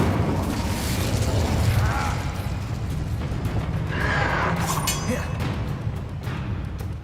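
Hogwarts Legacy's Incendio fire spell, crackling flame bursts and mechanical clicks over a steady rumble, with pops and a flare of sound in the middle, moderately loud.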